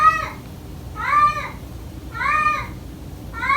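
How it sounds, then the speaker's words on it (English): A domestic cat lets out loud, drawn-out wild meows, three long wavering cries with short pauses between, close and clear over a quiet room. "She does something we call the wild meow."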